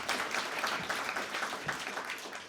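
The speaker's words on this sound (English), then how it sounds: "So thank you to all of them, and a round of applause" Audience at a library expansion gala and ribbon cutting gives a round of applause, a dense, steady patter of many hands clapping, moderately loud, tapering slightly at the end.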